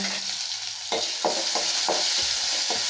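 Dried red chilies, coriander and curry leaves sautéing in oil for a tamarind kuzhambu, a bright crackling sizzle with several distinct stirring scrapes at a fairly regular pace, close and loud, no talk.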